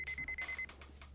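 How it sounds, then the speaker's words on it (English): Electronic beeping in Phoenix Wright: Ace Attorney, a rapid series of short, bright, evenly spaced beeps that stops abruptly, followed by faint clicks. "Beep."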